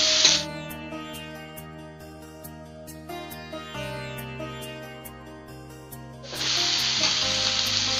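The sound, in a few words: stirring spices frying in pan for egg bhurji curry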